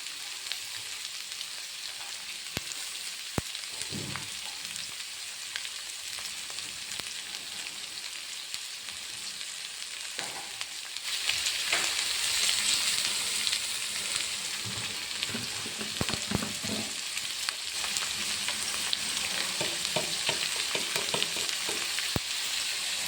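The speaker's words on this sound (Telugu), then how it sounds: "బెండకాయ ఫ్రై చేసేటప్పుడు ఉల్లిపాయలు కూడా ఇందులోనే వేగిపోతాయి మగ్గిపోతాయి" Sliced okra and onions frying together in oil in a pan, a steady hiss of sizzling throughout that grows louder and brighter about halfway, with occasional soft stirring scrapes and no talking.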